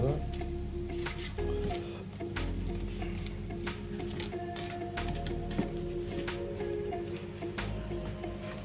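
Roast potatoes sizzle and crackle steadily in hot fat after being turned, with scattered pops and spits over a continuous frying hiss.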